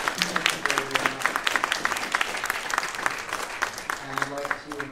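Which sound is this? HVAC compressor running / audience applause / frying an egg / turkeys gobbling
audience applause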